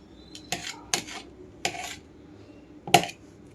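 A knife cuts boiled potatoes into pieces with a handful of sharp, scattered taps and scrapes against a board, quiet and close, with no talking.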